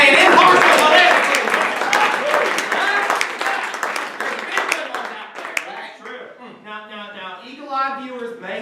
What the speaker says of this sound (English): Let's give a round of applause to Joe and Travis for staying impartial politics.